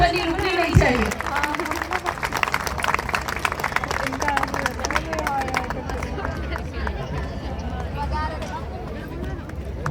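An audience claps continuously to welcome an honourable professor at a college event, a sustained crowd patter of many hands under a loud voice speaking over it.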